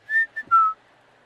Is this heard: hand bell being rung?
no